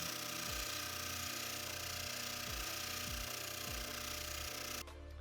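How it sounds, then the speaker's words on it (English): A braided wire wheel on a power tool grinds the cast aluminum body of a dirt bike shock, a loud steady whine broken by repeated dips and chattering catches as the wheel bites the round surface, cutting off abruptly near the end. "Just for the heck of it, I'm going to try that braided wire wheel now."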